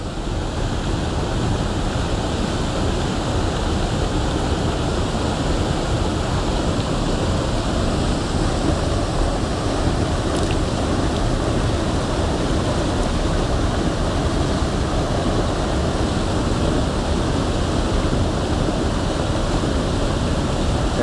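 Fast, choppy river water rushing at a waterfall, a loud, constant roar with no pauses, heard close by.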